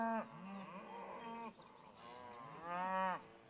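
A cow on a farm lowing twice, a long nearby moo followed by a shorter rising one, clear against quiet outdoor background.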